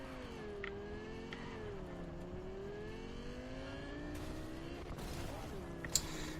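A car engine drones steadily in a video game as the car drives off-road, its pitch rising and falling with revs, with a few faint bumps and a brief clatter near the end.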